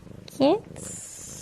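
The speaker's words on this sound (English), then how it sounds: "What is it about a purring cat that instantly makes you want to fall asleep." A cat purrs close by in a soft, rapid rumble, cut across by a brief, louder vocal sound.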